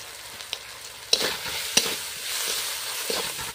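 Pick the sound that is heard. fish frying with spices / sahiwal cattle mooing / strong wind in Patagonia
fish frying with spices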